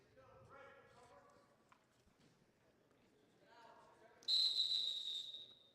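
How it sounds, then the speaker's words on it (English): A referee's whistle at a high school varsity wrestling match, one sharp loud blast near the end that rises clearly over the crowd noise, with voices earlier in the clip. "Referee blows the whistle again."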